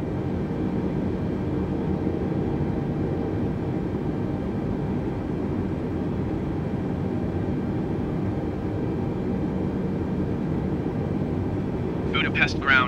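A Lufthansa airliner is pushed back by a tug at Budapest airport in Microsoft Flight Simulator 2020, a steady droning engine and ground hum running throughout with an even loudness, brief voice fragments toward the end.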